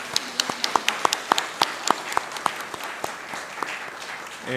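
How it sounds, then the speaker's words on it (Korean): A church congregation at a Sunday morning service of a Korean church in Chile applauds its teachers, with sharp, fairly sparse claps that keep a loose rhythm for several seconds. No voices stand out over the clapping. "수고하셨다고 한번 박수하겠습니다"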